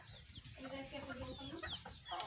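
Hens cluck softly in a quiet, continuous patter, with a few higher calls. The sound is faint, as if heard from a short distance.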